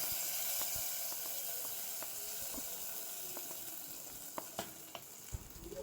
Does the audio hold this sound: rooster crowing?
no